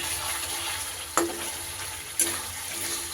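Chopped green chilies go into masala frying in oil for a katla fish curry with curd and cauliflower, giving a steady close sizzle broken by two brief sharp clatters.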